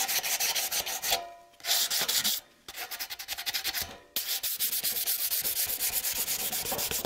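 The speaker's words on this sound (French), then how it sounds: "Le ponçage du mastic polyester, jamais à l'eau" Polyester body filler is hand-sanded dry on the front skirt of a BMW E30, giving close, loud rhythmic rasping strokes in quick succession, broken by two brief pauses.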